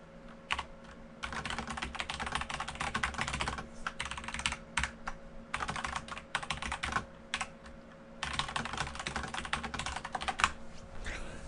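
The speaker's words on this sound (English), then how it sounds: "so I'm going to shut up and type real quickly here" Rapid typing on a computer keyboard, dense bursts of close, crisp key clicks broken by short pauses, alone against a faint steady electrical hum.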